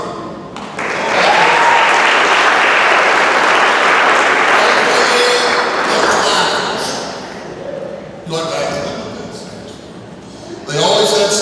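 An awards banquet audience at Brashear High School claps loudly for the team managers, a sustained wall of applause that fades slightly before a speaking voice returns near the end.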